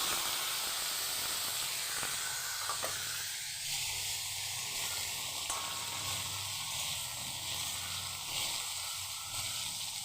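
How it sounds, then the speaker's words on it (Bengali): Potatoes frying in hot oil with dried red chillies for a paneer curry, giving a steady, even hiss and sizzle that holds for the whole stretch, with no voices. "দুটো শুকনো লঙ্কা ফোড়নে দিলাম, তারপর আলুগুলো ছেড়ে দিলাম।"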